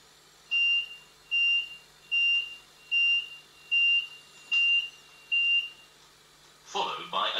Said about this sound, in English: Should an incident be detected in your carriage, the following alarm will sound.